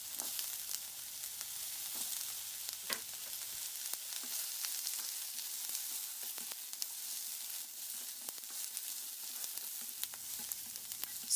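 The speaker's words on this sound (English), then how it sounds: "Stir fry them until you can smell the fragrance from the peppers and onions" Peppers and onions stir-fry in a pan with a steady, soft hiss of sizzling oil and occasional scraping clicks of stirring, fairly quiet and with no voices.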